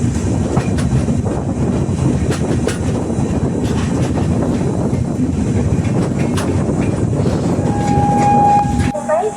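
The Konkan Kanya Express on the Mumbai to Goa route rolls along loudly and steadily, a dense rumble with wheel clatter heard from on board, and a long horn note sounding near the end.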